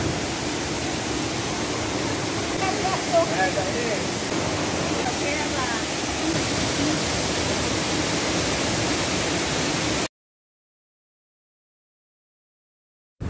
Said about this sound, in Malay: Air terjun dia memang cantik, tinggi.